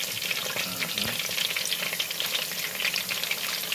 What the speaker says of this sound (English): We have this batch of egg rolls going,